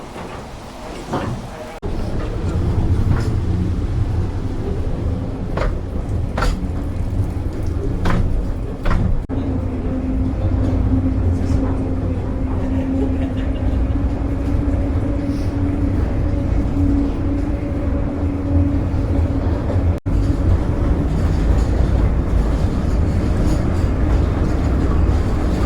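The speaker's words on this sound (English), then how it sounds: "The train has arrived." A train rumbles in and slows at Britannia Mine, with a low steady drone, a rising mechanical whine and intermittent clanks and knocks, loud and close.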